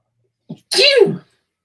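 A quick intake of breath followed by one loud, close sneeze, then silence.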